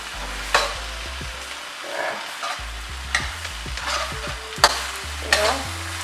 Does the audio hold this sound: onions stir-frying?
yes